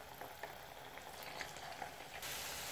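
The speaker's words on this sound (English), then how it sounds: "I'll set them in completely and then let them sit and fry until crispy" Potato twists fry in hot oil, giving a steady soft sizzle with faint crackles throughout, fairly quiet and with no voices.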